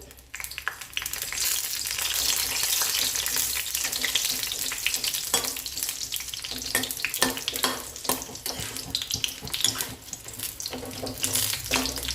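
Six ghati chillies fry in four spoons of oil, giving a steady close hiss with frequent sharp pops and crackles throughout, alone without talk.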